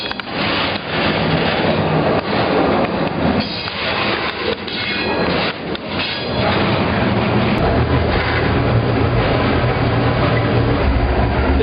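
A freight train rolls along while someone rides aboard, train-hopping in Indiana: a loud, steady, close rumble with rattling and clanking of the cars, continuous throughout with no voices.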